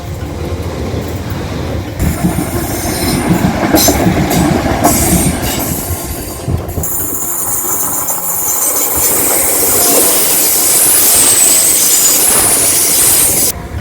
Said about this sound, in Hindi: ट्रेन नंबर 2 फिर आ गई है